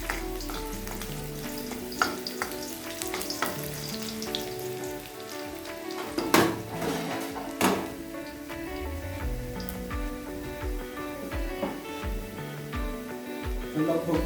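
Chicken gizzards and liver sizzle steadily in hot oil for a Nepali-style pangra fry, a dense continuous crackle with scattered louder pops and stirring scrapes, close and alone.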